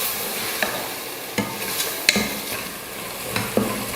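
Tomatoes sautéing with salt in a pan for mutton biryani, a steady soft sizzle broken by several sharp scraping stirs of a spatula, close and alone without any talk.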